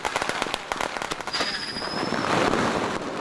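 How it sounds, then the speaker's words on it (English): Dense crackling bursts and rapid pops from Lunar New Year fireworks at midnight in China, with a thin whistling streak rising midway, continuous and fairly loud throughout. "the noise of the fireworks scares away the evil spirits"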